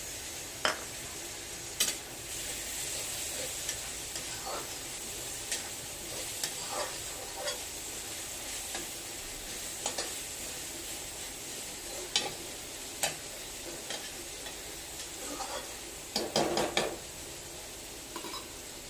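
Steady sizzling of tomatoes frying in a pan, with occasional clinks and scrapes of a utensil stirring, no voices.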